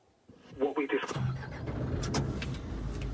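Diesel engine of a 2014 Isuzu Grafter 3.0TD dropside truck cranking briefly and catching, settling into a steady close idle rumble, with a light click and handling noise before it starts.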